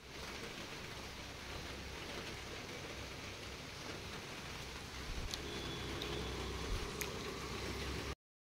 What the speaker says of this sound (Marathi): हे बघा कंटिन्यू पाऊस चालू आहे सकाळ सकाळी